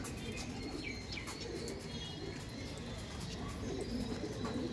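Pigeons at a large loft of several hundred birds, with soft cooing and bursts of wing flapping spread through a steady, fairly close bird-filled background, with no talk.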